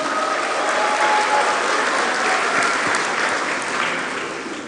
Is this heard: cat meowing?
no